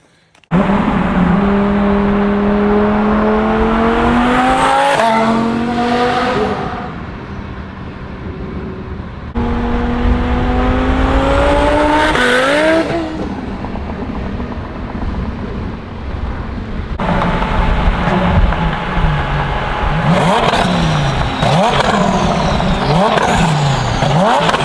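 A twin turbo Lamborghini STO pulls hard on a freeway, its engine screaming upward through rising revs in repeated loud, close acceleration runs broken by gear changes, with heavy wind rush over the microphone.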